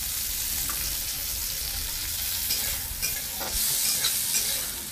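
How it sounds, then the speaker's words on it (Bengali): Tomato, onion and garlic fry in a pan for a fish curry, giving a steady, dense sizzle and hiss close up with occasional stirring scrapes, with no voices. "টমেটো, পেঁয়াজ, রসুন এগুলোকে একটু লাল লাল করে ভেজে নেব"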